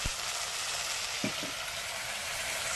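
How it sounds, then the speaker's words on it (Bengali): Mung dal frying in a pan just after a splash of water is added, giving a loud, continuous hissing sizzle close up, with a couple of soft stirring knocks and no talking. "ডালটা একটুখানি ভেজে নেব। অল্প একটু জল দিয়ে দিলাম।"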